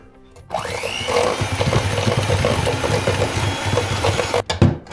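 An electric mixer whirs to life and runs steadily, beating eggs into banana bread batter with a close, buzzing motor drone and rattling against the bowl, then cuts off with a few clatters at the end.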